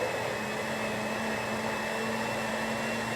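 A kitchen blender runs steadily during a cooking demonstration of strawberry rhubarb ganache, giving a continuous, even whir at moderate volume with no pauses and no voices.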